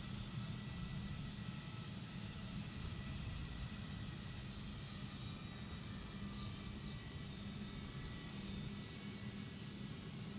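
A jet airliner landing at Gold Coast Airport, heard as a steady, continuous roar of engine and airflow noise with a constant broadband rumble from start to finish, no talk.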